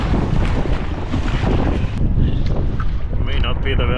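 Cold wind buffets the microphone during night sea kayaking off the coast near Sundsvall after sunset, a loud, steady roar of gusts with water movement beneath and faint voices in the last second.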